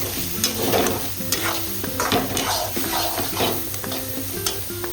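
Masala and soybean chunks sautéing in a pan for paneer soya bhurji, a steady sizzle broken by repeated scraping stirs of a spoon against the pan, close and continuous with no talking.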